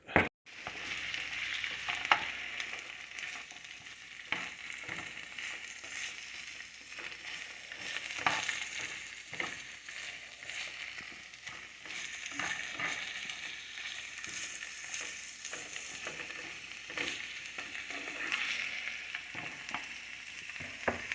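Vegetables for a rabbit stew fry in a pan, a steady sizzle broken by repeated scraping and stirring clatter, close and fairly quiet.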